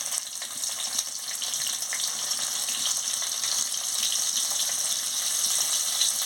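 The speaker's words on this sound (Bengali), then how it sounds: "তেল গরম হয়ে গেছে, তেলে একটু জিরের ফোড়ন দিয়ে দিচ্ছি।" Cumin seeds and chopped onion fry in hot oil, giving a steady, close hissing sizzle that runs evenly throughout with no voices over it.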